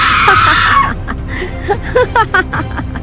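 A woman's loud, inhuman scream used as a horror sound effect rings out for the first second, followed by broken, shrill cackling cries over a low rumbling background.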